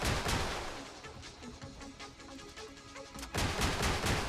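Cicada rocket launcher in a shooter game fires a rapid string of punchy blasts with a ringing tonal hum, then a brief gap followed by another loud volley; no voices.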